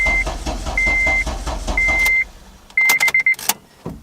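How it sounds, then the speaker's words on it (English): A car engine is cranked but fails to start. A loud low drone runs under repeated warning chimes, then cuts off, followed by a few sharp clicks. "Tries to crank, nothing."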